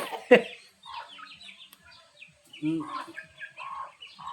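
Backyard chickens cluck and squawk in short bursts close by, with one sharp loud call near the start, while a person talks over them in a home yard where the birds are being fed.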